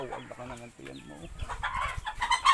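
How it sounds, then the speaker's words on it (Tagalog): Chickens cluck and squawk close by on a rural property, with people talking over the birds throughout. "May manok lang, ang kanihin."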